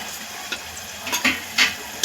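Dry spices stirred into hot oil with onion and tomato for a dhaba-style mutton curry, a steady close sizzle broken by several sharp scraping stirs.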